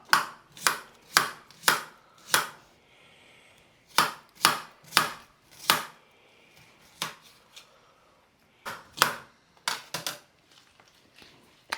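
A knife chops food on a board in sharp, crisp strokes, quick bursts of several cuts with short pauses between, close and clear.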